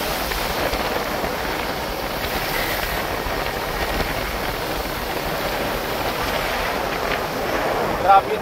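Rough, muddy sea churned after three days of rain breaks in a continuous washing roar of waves mixed with wind buffeting the microphone, steady and fairly loud.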